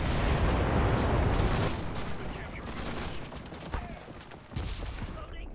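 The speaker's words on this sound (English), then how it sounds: "I'm just clearing a trench with a machine gun" Machine gun fire in a WW2 trench fight, a dense roaring burst of rapid shots that dominates at first, then thins into scattered reports and distant blasts.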